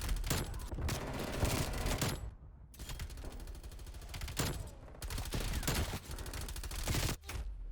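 LC10 submachine gun fire in a shooter video game: long, loud bursts of rapid automatic shots, roughly two seconds each, separated by brief pauses, and a short final burst, with no speech.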